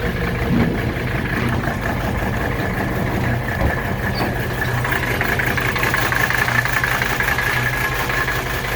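A classic Mercedes W108 with a five-cylinder engine idles roughly after sitting for a month, misfiring and shaking; a steady, continuous low rumble runs throughout at even loudness, with no talk.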